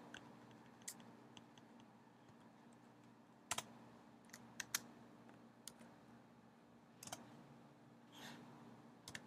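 Quiet typing on a computer keyboard while programming for iPhone and iPad: scattered, faint key clicks with a few sharper taps, set against a low steady hum.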